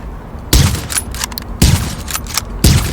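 Three loud, sharp gunshots from a weapon in the video game The Division, spaced about a second apart, each a hard broadband crack with a short tail of game ambience between them.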